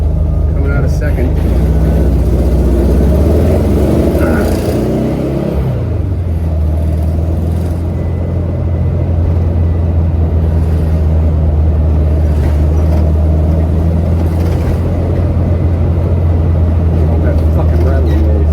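A 1969 VW Bus with carburettor trouble drives along, its engine droning loud and steady and shifting pitch around a gear change, with a rattle somewhere in the vehicle and someone talking over the noise.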